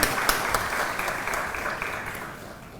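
An audience claps for the speakers at a social media workshop certificate ceremony, a dense, sustained burst of applause in a hall that slowly thins out toward the end.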